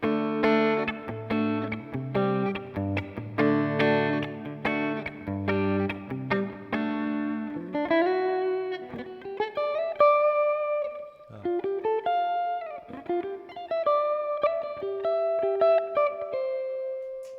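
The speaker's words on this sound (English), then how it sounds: "that's just no hall, just a slight reverb, and here's more reverb" A clean electric guitar, played through a Line 6 Helix preset with hall reverb, plays chords and then single-note melodic lines, notes ringing out with a lingering reverberant tail, no voices present.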